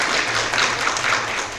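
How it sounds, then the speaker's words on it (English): Dense, steady applause from a conference audience at a business event on Africa, filling the whole short stretch at even loudness with no break and no voices over it. "one more time, a round of applause for them."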